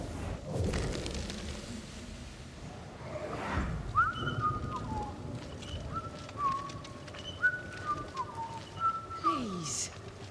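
A video game character whistles a tune in short melodic phrases with rising and falling glides, fairly clear over a low background of ambient game noise.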